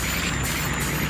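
A truck in the American Plains Mudding video game reverses with a continuous loud engine and air noise and high repeating backup beeps, over a short stretch.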